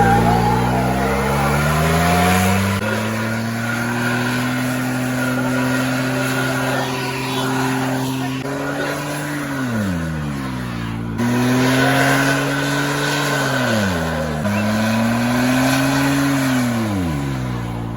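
A car doing a burnout at a large car meet takeover revs hard and close, its engine pitch climbing, holding and dropping in repeated surges, with crowd noise faint underneath.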